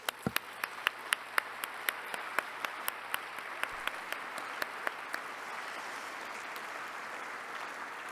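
Audience applause at the closing ceremony of a world forestry congress. Crisp, rhythmic claps rise out of a broad crowd wash, with the distinct hits thinning toward the end while the general applause carries on.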